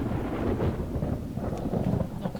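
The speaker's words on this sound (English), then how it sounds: "Not convinced lightning's a good idea." Thunder in the video game The Talos Principle 2 rumbles in a dense, continuous low roll, loud and sustained, with rain-like hiss layered over it and no voices.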